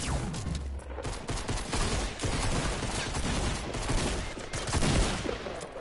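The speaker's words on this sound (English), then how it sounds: "I headshot him with that revolver" Rapid bursts of gunfire from a PS4 shooter game, with sharp shots including revolver fire cracking in quick succession at close, loud volume.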